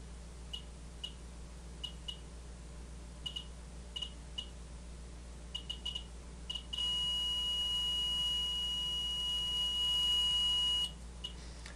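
A radiation detector alarm sounds a loud, steady electronic tone for about four seconds, preceded by scattered short clicks from the counter.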